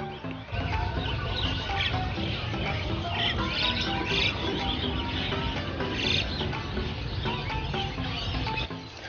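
Many caged birds at a busy bird market in Denpasar, including srikantil, squawk, chirp and call over one another in a dense, continuous chorus, some near and loud, others farther off.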